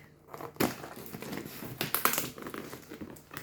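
Close crinkling, tearing and rustling as tape is pulled from a parcel and its packaging is opened, in irregular bursts with brief pauses.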